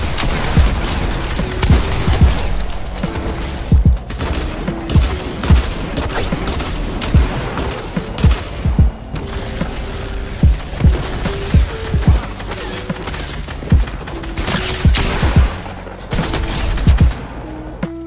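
Dense, rapid bursts of automatic gunfire from a Fortnite match, loud and sustained with repeated sharp shots and brief pauses, no talking over it.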